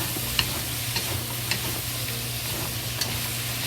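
Cauliflower and sausage stir-fried in a wok, a steady broad sizzle with soft scraping stirs and light utensil clicks recurring about every second, close and moderately loud, with no voices.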